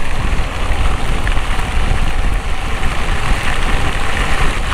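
Rain pours steadily in Salvador, Bahia, a dense continuous hiss of drops striking surfaces, with a low engine rumble idling underneath throughout and no talking.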